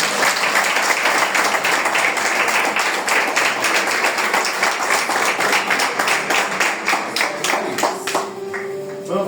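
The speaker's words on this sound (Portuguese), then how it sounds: "Que a igreja pode aplaudir ao Senhor." A church congregation applauds during a morning consecration service for deaconesses, with dense, steady clapping filling the room for several seconds before thinning out near the end.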